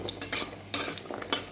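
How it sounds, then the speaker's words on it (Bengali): Lentil badi frying in oil for a spinach and vegetable curry, with a spoon stirring and scraping the pan in a few sharp clinks over a soft, steady sizzle; no talking. "বড়িটা আমি লাল করে ভেজে উঠাবো"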